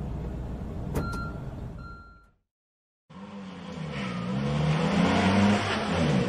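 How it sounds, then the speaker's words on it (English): A delivery truck drives and reverses: short beeps and tones sound over engine noise, then after a brief gap the engine returns louder, rising and falling as it revs and moves close by. "Delivery truck,"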